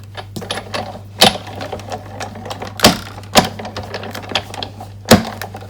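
A sewing machine stitches through a handmade card with a slightly loose thread tension, giving short bursts of mechanical clatter and several sharp clicks spread unevenly, close and fairly loud with no talking.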